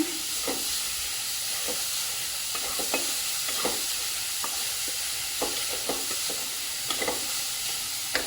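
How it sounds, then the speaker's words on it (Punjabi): Samosa filling of palak and vegetables with khoa is stirred in a pan over low heat, with a soft constant sizzle and hiss and a series of light scraping strokes at irregular intervals, close and alone. "ਹਲਾਉਂਦੇ ਜ਼ਰੂਰ ਰਹਿਣਾ ਆਪਾਂ ਨੂੰ ਕਿਉਂਕਿ ਇਹ ਥੱਲੇ ਨਾ ਲੱਗੇ"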